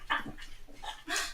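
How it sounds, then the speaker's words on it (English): A dog named as the household pet lets out a few short, close barks and yips in quick bursts, with a louder final bark near the end, sounding alone without talk. "That was Waffle Dog. I didn't realize you would hear it."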